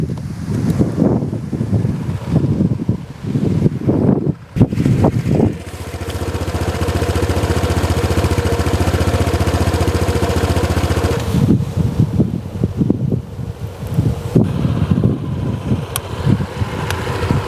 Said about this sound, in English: So when you listen to it, there is no cranking.